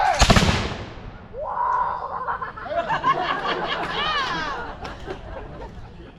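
A musket volley crashes out at a historical firing demonstration, a single loud burst at the start that quickly decays, followed by a crowd chattering and laughing in the background.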